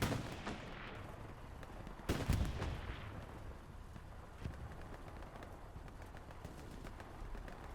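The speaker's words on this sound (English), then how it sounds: "TFMC has an outpost here that's just getting farmed by artillery right now" Artillery fire in the video game Hell Let Loose, with a heavy booming impact near the two-second mark over a constant rumbling battlefield backdrop and scattered distant shots, all fairly faint.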